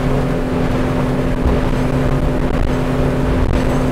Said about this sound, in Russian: Лодка идет очень уверенно, на самом деле.